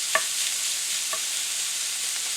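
Chopped small onion fries with ground beef in a pan, a steady, close, broadband sizzle that stays even throughout, with a couple of faint clicks of a utensil near the start.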